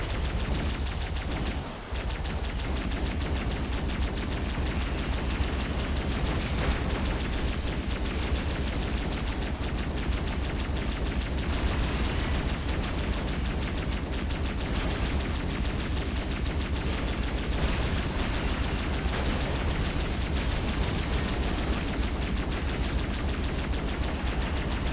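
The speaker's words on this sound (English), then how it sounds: "We're going to get the repeating cannon upgrade. This allows the Banshee to shoot faster" Banshee aircraft in a Halo Wars battle fire upgraded repeating cannons in a dense, continuous roar of rapid shots and blasts. The barrage stays loud and steady from start to finish, with no voices over it.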